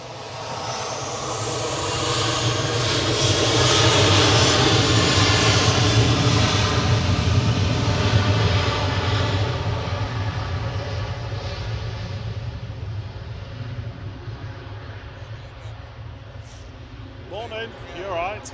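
A Ryanair Boeing 737-800 departing Manchester Airport produces a powerful jet roar that swells to a peak and then slowly fades into the distance, with a voice talking over it.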